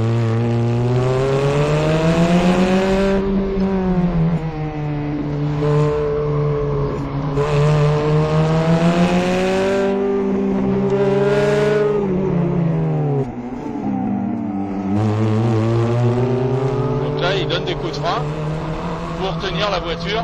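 Ferrari F430 or Porsche GT3 with around 490 horsepower revving hard on a track, a loud sustained engine note climbing and falling through quick gear changes, with someone talking over it.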